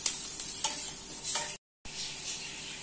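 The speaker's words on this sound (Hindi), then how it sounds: "प्याज को हमें बहुत ज्यादा नहीं करना है, बस हमें बहुत हल्का सा ही इसको भूनना है।" Chopped onion lightly frying in a pan for besan cheela, a soft steady sizzle with faint stirring scrapes, broken by a brief moment of silence before the sizzle resumes, no voices.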